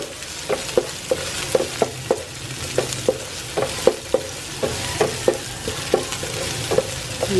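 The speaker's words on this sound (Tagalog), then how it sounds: "Doon ko na lang din igigisa yung bawang sibuyas." Garlic and onion sauté in a pan with a bright crackling sizzle, and a spoon scrapes and taps the pan in a quick, regular rhythm close up, with no talking.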